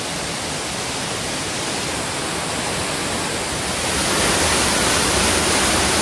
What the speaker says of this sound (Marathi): जो आहे धबधबा तो सोमतीर्थ धबधबा आहे आणि या धबधब्याखाली आमची मजा चालू आहे